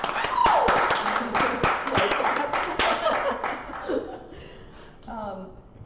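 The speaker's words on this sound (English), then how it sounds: "Please give a warm round of applause for Gabby Collins Fernandez." Scattered, light clapping from a small audience welcoming a speaker to an art lecture, with a few chuckles mixed in, thinning out and fading toward the end.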